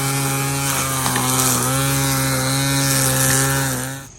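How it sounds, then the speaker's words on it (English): WORX string trimmer running steadily along garden bricks, a loud, close, buzzing whine with the line whipping and rasping over the edge throughout, then the motor drops away at the end. "So while he's edging, I'm going to trim."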